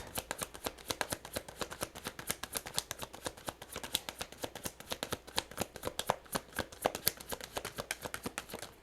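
A tarot deck is shuffled by hand, producing a long, close, rapid riffle of crisp card snaps repeating in a steady rhythm throughout, with no talking.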